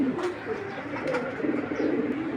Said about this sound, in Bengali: দেখেন নট একা একাই ডাকতেছে